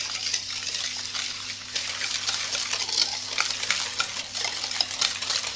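Eggs and sugar are mixed for cupcake batter, a busy scraping and whisking sound against a bowl, steady and close with a faint hum underneath and no talking.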